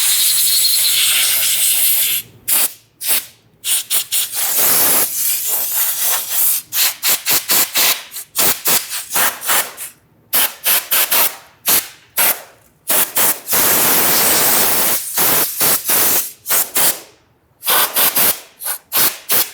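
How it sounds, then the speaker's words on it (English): Compressed air blasts debris off the intake manifold of a 1994–2004 Ford Mustang 3.8. Loud, close, hissing bursts repeat in quick, uneven pulses, with a few longer sustained blows and short silent gaps between them. "Now we're going to use some compressed air to clean this off."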